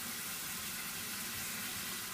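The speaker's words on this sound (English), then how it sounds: "you can turn the water on and let it warm" Water runs from a sink tap in a steady, faint hiss with no break.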